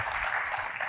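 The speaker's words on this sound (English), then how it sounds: "please give a welcome round of applause for Stan and Cynthia" Crowd applause, a dense steady patter of many hands clapping throughout, moderately loud.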